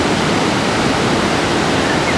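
The Madi river in the Nepal Himalaya rushing beneath a suspension bridge, a loud, dense, unbroken roar of fast water close by.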